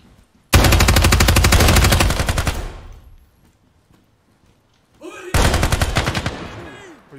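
Loud, close bursts of automatic gunfire in the tactical shooter game Ground Branch: one long rapid-fire burst of about two seconds, a pause with faint voices, then a second sustained burst.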